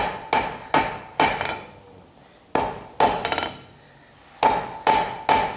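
Blacksmith hammering hot metal at a forge to make a forge weld, ringing hammer strikes in quick bursts of two to four blows separated by short pauses, close and clear with no talk.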